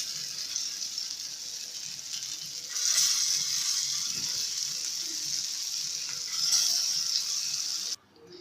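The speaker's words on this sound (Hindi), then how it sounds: "अब हम इसी ऑयल में बाकी के कबाब अपने फ्राई कर लेते हैं।" Shami kebabs fry in oil with a steady, bright hiss and fine bubbling crackle that swells twice, close and even, then cuts off abruptly near the end; no one speaks.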